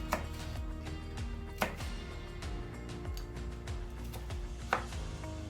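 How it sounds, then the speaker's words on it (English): A knife chops bell peppers on a cutting board with a few sharp, irregular knocks spaced apart, over a low steady background hum. "I finished chopping the bell peppers"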